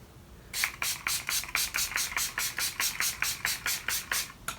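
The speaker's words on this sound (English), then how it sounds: "I'm going to set my face with the Too Faced Hangover RX 3-in-1 setting spray." A Too Faced Hangover RX 3-in-1 setting spray, the peach one, hisses in about fifteen quick, evenly spaced spritzes from a pump nozzle, close up, with no talking.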